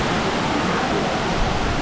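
Steady broadband roar of the Canto Lampo waterfall in Bali, heard close by inside a cave, filling the brief clip with unbroken rushing water and no other distinct sounds.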